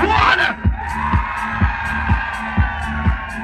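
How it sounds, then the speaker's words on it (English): Fight-night crowd cheering and roaring in an arena, a loud continuous mass of voices after a countdown, with steady rhythmic low thumps like stamping or a beat repeating about every half second underneath. "I want you guys to make some noise"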